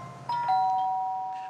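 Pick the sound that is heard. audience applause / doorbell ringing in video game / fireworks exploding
doorbell ringing in video game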